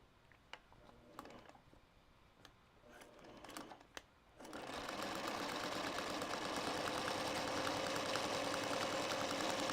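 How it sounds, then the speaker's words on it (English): A sewing machine stitching a mini quilt starts after a few light handling clicks and then runs in a steady, loud, continuous whir. "So I'm going to take it over here and I'm going to stitch."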